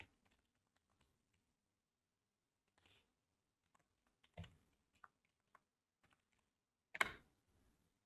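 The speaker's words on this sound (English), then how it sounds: "Type in your email address." A computer keyboard being typed on while an email address is entered into a web hosting account setup form: a handful of sparse, quiet key clicks spread out with long silent gaps.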